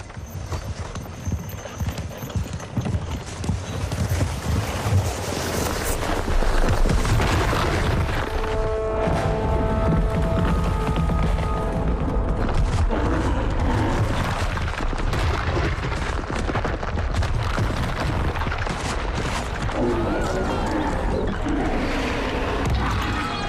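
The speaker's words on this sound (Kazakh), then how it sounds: "Мұз жарылып жатыр." Ice cracks and booms amid a rough, noisy background, with sharp snaps scattered throughout and a few ringing, twanging tones partway through.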